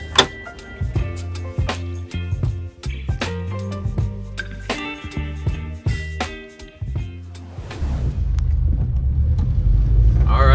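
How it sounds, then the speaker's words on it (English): A Subaru Forester SF5 STi with a swapped 5-speed manual gearbox revs and shifts through gears while driving, with clunks and rattles inside the cabin, then a steady low rumble of cruising. "we are driving the car, fully swapped 5-speed"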